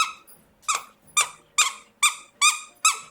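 A dog chomping on a plush emoji squeaky toy, seven sharp rubbery squeaks in a steady rhythm about half a second apart, close and clear, with no voices.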